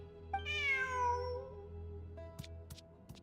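A cat in Genshin Impact gives one long, rising-and-falling meow over soft game music, followed by a few light interface chimes and clicks, no speech.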